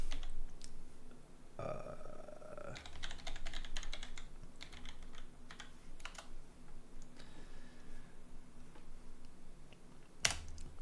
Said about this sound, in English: I'm just going to type this out this time